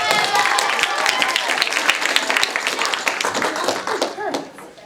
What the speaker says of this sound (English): round of applause for Loretta